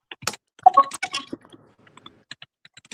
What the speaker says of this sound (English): Can hear you typing a little bit.